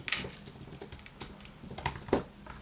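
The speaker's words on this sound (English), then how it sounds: "So if I do text, I can just start typing," Light, quick tapping on a computer keyboard comes in irregular bursts of soft clicks, close and quiet, with no one talking.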